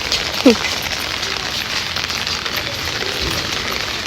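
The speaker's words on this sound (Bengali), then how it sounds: "বৃষ্টির মধ্যে ছাতার নিচে যাচ্ছি" Rain falls steadily on an umbrella during a walk, a close, even hiss of drops with a short vocal sound near the start.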